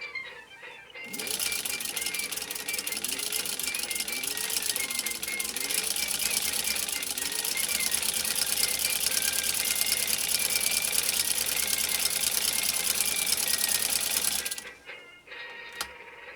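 A Singer 15-91 sewing machine stitching about 3-ounce genuine cowhide runs as a continuous rapid mechanical whir with a fast clatter, close and steady for over ten seconds before stopping.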